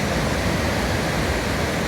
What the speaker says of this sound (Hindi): हम पानी में उतर रहे हैं